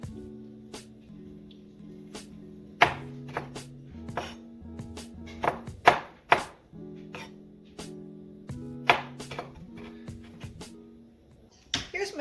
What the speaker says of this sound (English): So I'm going to chop these artichokes up just a tiny bit.